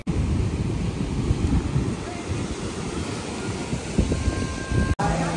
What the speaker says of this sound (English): it's pouring with the rain